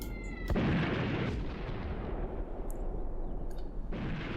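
Units in Graviteam Tactics open fire: a sharp, loud gunshot crack followed by a rolling echoing tail, then distant faint pops and a second crack near the end, with no voices.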